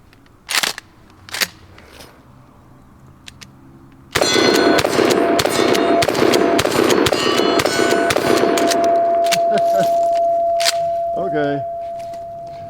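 A Mossberg pump shotgun slamfired outdoors: a few sharp clicks and light talk lead into a rapid burst of loud, close gunshots fired in quick rhythm, each with a metallic action clack, followed by a ringing tone and fading echo.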